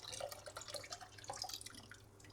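Homebrew yeast slurry, swirled up with a stir bar, being poured into a beer fermenter, giving soft, close trickling and dripping splashes that go on steadily for a couple of seconds with no talk.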